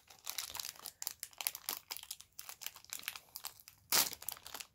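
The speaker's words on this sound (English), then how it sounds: "take that baggie out and open that one up" A plastic baggie from an advent calendar crinkles and rustles continuously as it is pulled open, close up, with a louder tearing crunch near the end and no talk.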